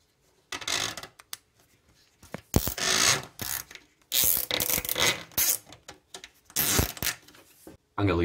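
Plastic zip ties ratchet tight around PEX tubing for a compressed air system, in a series of raspy zipping bursts of varying length with short gaps, close and fairly clear.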